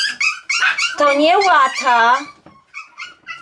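Yorkshire terrier puppies eating fresh beef make whiny growls and whimpers, close and loud, mixed with a person talking over them.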